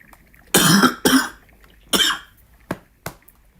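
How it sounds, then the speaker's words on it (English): A person coughs several times: two heavy, chesty coughs, then another, followed by two shorter, lighter coughs, close to the listener. "But now I need a cough."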